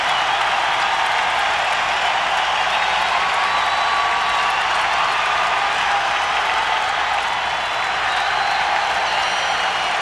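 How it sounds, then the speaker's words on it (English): A hockey arena crowd at a Calder Cup game, a dense, steady roar of cheering and applause that fills the whole stretch without a break. "Listen to this crowd."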